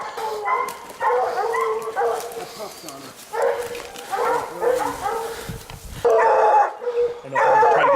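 Hunting dogs bark, yip and howl in repeated bursts out in the woods, with someone talking over them at times.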